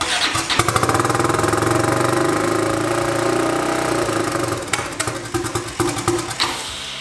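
A turbocharged EFI 660 engine in a lawnmower runs loud and close, a rough, steady, rattling drone that pulses unevenly toward the end.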